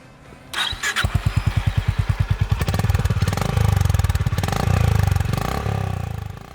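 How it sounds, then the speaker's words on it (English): A 350cc single-cylinder motorcycle engine starts with a quick crank and settles into a loud, evenly spaced exhaust thump at idle, then swells slightly as it revs, close up with no talking. "just from the exhaust note. And it's a loud, nice-sounding thump,"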